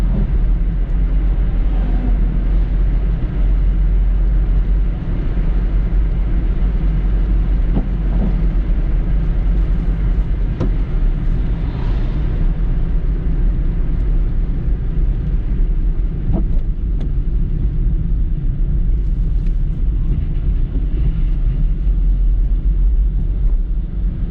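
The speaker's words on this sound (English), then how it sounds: "Fifth gear or top gear, 70 kilometers per hour, that's the noise." Inside a 2011 Renault Clio GrandTour cruising in fifth gear at 70 km/h, a steady low engine and road drone fills the cabin, loud and unbroken with only faint rattles on top.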